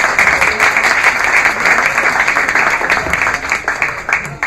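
Warm audience applause for a speaker named Niko at a live talk, a thick, steady wash of clapping that holds strong throughout and eases slightly near the end.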